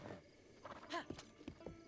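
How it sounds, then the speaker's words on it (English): A horse in The Legend of Zelda: Breath of the Wild gives a short, bright whinny near the middle, with a few soft hoof clops and game ambience around it. "Oh yeah, I got this really cool horse."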